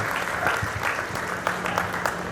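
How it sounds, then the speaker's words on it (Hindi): At a Durga Puja mahotsav gathering, the audience gives a brief burst of steady clapping over a low electrical hum, before the start of worship. "मैं चाहती हूँ आप सभी मुझे तालियों से आदेशित कीजिए कि मैं आराधना प्रारंभ करूँ"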